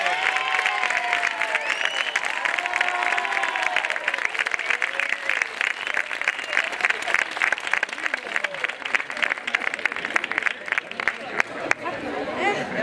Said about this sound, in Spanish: Fuerte aplauso para él